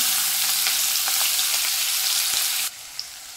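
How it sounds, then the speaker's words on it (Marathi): Green chilies sizzle in hot oil in a pan for a leafy mixed vegetable dish, a steady loud frying hiss with faint spatters that cuts away abruptly near the end, leaving a quieter hush. "तर मिरची आहे ती तेलामध्ये अशी परतून घ्यायची आहे फक्त"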